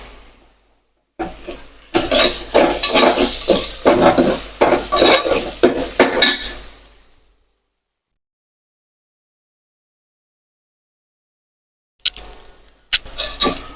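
Ginger-garlic paste sautéing in a pan, sizzling and stirring in bursts for several seconds, a long silence, then a short return of sizzle close up.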